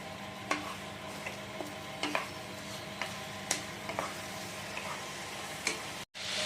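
Bay leaves, dried red chillies and cumin seeds fry in hot oil for a chicken curry, giving a low steady sizzle broken by scattered small crackles and spoon scrapes, close and moderately quiet, with a brief dropout near the end.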